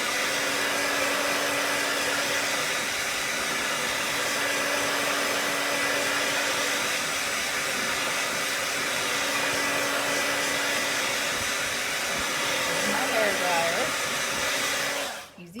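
A hair dryer blows steadily and loudly up close, drying chalk paste on a craft project, with a constant whooshing hum that cuts off abruptly at the end.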